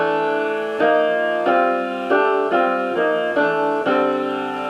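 Sustained chords voiced in stacked fourths above a low E drone, jazz modal harmony; about six evenly spaced, ringing chord attacks, each held and decaying, played clearly with no voices.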